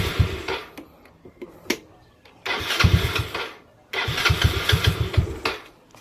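A motorcycle fitted with a new 30mm carburetor sputters at a low idle and then revs up in two bursts of uneven, popping engine noise. It is close and loud, with a voice speaking between the revs.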